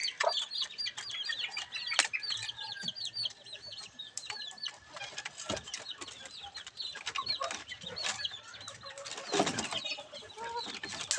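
Chickens being fed Integra 3000 feed cluck and chirp continuously in a busy, close chorus of overlapping calls, with no talking.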